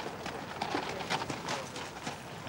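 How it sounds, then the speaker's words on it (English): Hooves of Life Guards cavalry horses clip-clop on pavement outside Buckingham Palace during a royal wedding procession, a faint, irregular clatter of several horses under a crowd murmur with a few birds calling. "a little recalcitrant lifeguard's horse there"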